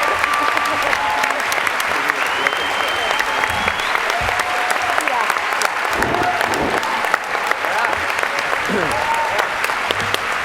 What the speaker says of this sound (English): I would like to give a round of applause to Pamela Fryman for her work on the show.